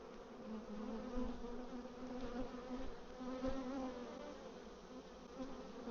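Angry honey bees swarm around an opened hive during a brood inspection, a dense steady buzz that fills the whole stretch, close and continuous with no talking.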